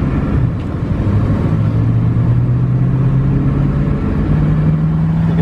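A 1958 Cadillac Series 75 Fleetwood limousine cruises along the road at around 60, its engine a loud, steady low hum and rumble with a gently rising drone, continuous with no voices.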